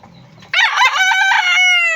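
An old rooster crows while being handled, a single loud, close call that rises sharply and holds its long drawn-out final note, preceded by a brief low rustle.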